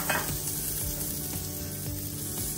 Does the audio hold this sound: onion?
yes